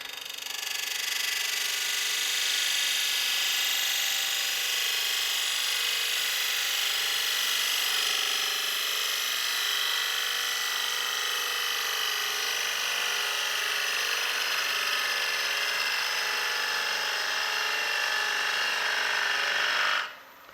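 A continuous high-pitched whirring grind of a wood lathe smoothing the surface of a bird feeder piece runs steadily for a long stretch, close and unbroken, cutting off abruptly at the end.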